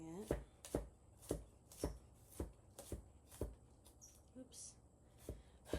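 A knife minces meat for Filipino bistek on a cutting board, making sharp, evenly spaced chops about two per second, close and crisp, with a few softer knocks in between.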